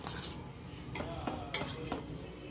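A spoon stirs sesame seeds into hot jaggery syrup for chikki with a few quiet scraping strokes against the pan over a soft, low background.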